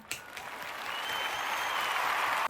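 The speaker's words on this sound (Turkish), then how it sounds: "Kendimi alkışlıyorum." One person claps for herself at home on finishing a task, a short burst of close applause lasting a couple of seconds that stops abruptly.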